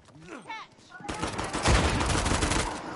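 A grenade blast in the multiplayer game Uncharted 4 erupts suddenly and loud, followed by sustained rumbling gunfire and explosive noise, with a voice speaking briefly beforehand.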